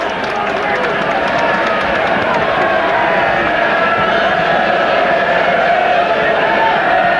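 Rugby league crowd at Naughton Park during a Widnes versus Wigan championship decider, a steady, dense roar of many voices filling the whole stretch without breaks, loud and continuous.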